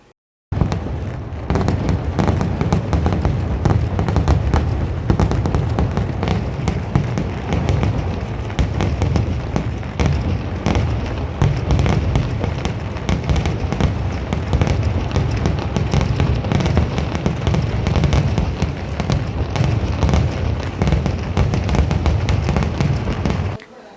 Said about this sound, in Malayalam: ആയിരങ്ങൾ വെടിക്കെട്ട് ആസ്വദിച്ചു